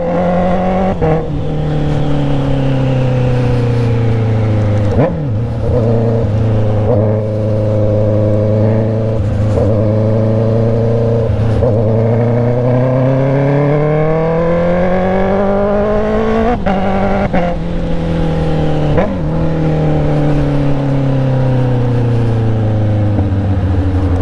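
Honda CB650R motorcycle engine revving on a test drive, loud and close throughout, its pitch repeatedly rising and falling through the gears with no talk.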